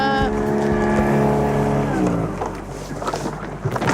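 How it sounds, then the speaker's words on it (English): A sailboat's motor runs steadily with a droning harmonic tone close by, then is cut, falling away into wind and water noise on a lake in northern Alabama near Guntersville. "I think I'm gonna cut the motor"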